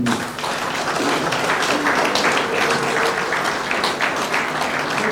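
A crowd gives steady, dense applause throughout as two dignitaries exchange signed documents at a formal ceremony, the clapping loud and unbroken with faint voices mixed in.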